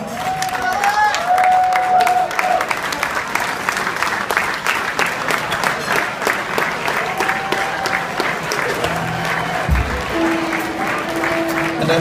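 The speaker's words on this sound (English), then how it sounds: "Let's give them a nice round of applause, ladies and gentlemen." Wedding guests applaud the couple Christie and Joe after a father-of-the-bride speech, steady loud clapping from a large crowd lasting throughout, with some cheering and voices mixed in.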